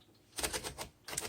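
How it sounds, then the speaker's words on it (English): Paper is loaded into a 1947 Smith Corona Sterling typewriter, giving a run of close mechanical clicks and ratcheting rolls of the platen, a short burst, a pause, then another. "I'm going to load the paper"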